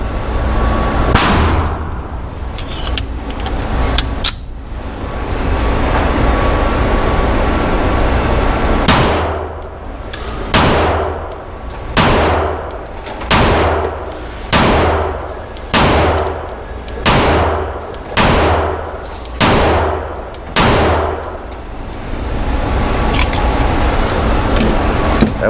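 A SIG P211 GTO pistol fired at 10 yards: ten loud, sharp shots in a steady, evenly spaced rhythm, each with a short decay, over a constant outdoor background rumble.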